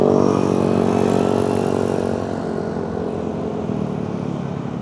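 Steady, loud engine drone of a Yamaha NMAX Neo scooter in stock factory condition cruising along in heavy traffic with rushing wind noise, easing slightly partway through but otherwise continuous.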